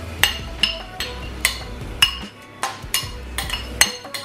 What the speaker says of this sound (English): I'm gonna throw the shrimp in here now so we can get it cooking